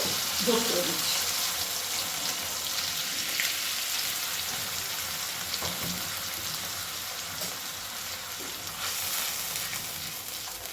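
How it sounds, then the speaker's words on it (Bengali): Ground spice paste, loosened with a splash of water, frying in oil in a pan over a medium flame for a Bengali tangra fish curry, giving a loud, continuous close sizzle with faint stirring scrapes throughout. "গ্যাসের ফ্লেমটাকে মিডিয়ামে রেখে মশলাটা খুব ভালো করে কষিয়ে নেব"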